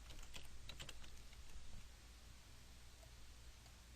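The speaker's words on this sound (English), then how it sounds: "let's go ahead and type in bn underscore." Quiet computer keyboard typing, a short burst of key clicks at the start followed by faint background hiss.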